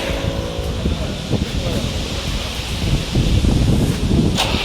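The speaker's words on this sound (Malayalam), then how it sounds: "ഒരു രക്ഷയില്ലാത്ത കാറ്റ്, ഭയങ്കര കാറ്റ്" Strong gusty wind roars and buffets the microphone continuously, with broadband rumble swelling louder toward the end.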